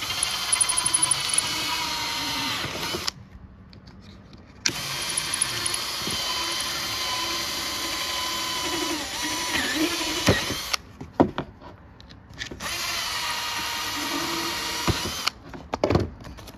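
A power drill bores through an arcade control panel during a Popeye cabinet restoration, running loud and steady in long bursts with a few short pauses between runs.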